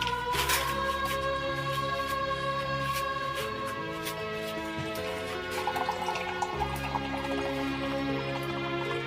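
Water is poured from a tap or jug into a drinking glass in a home, a steady continuous trickle with drips that runs close and fairly loud over background music.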